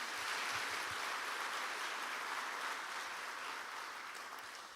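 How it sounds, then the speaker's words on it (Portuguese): A church congregation applauds, giving a steady, fairly faint wash of clapping that keeps an even level and fades a little at the end. "Pode aplaudir o Senhor,"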